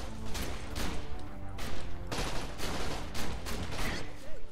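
Shotgun blasts in the first-person shooter Borderlands: The Pre-Sequel, heavy booming shots fired in quick uneven succession with a dense, crashing tail, loud and up front.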